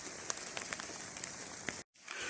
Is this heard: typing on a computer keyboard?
no